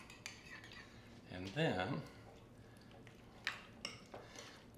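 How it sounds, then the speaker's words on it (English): Eggs being mixed with pepper and salt in a bowl, a utensil clinking and scraping against the dish in light, scattered taps, with a brief spoken phrase partway through. "we're going to go ahead and mix that in"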